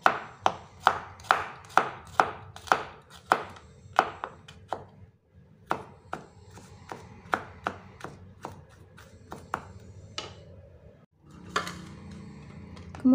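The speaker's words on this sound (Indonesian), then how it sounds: "Tiga siung bawang putih. Ini dicincang halus ya." Garlic cloves being finely minced with a knife on a cutting board for an Indonesian fried chicken in sweet soy sauce, a fast run of sharp, close chopping taps followed by slower, more scattered cuts and a brief louder clatter at the end.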